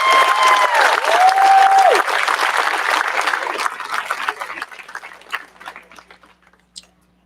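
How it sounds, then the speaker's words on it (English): A crowd at an eighth grade promotion ceremony gives a valedictorian a loud round of applause with some cheering, the clapping thinning out into scattered claps before fading to silence. "Let's give one of our valedictorians one last round of applause."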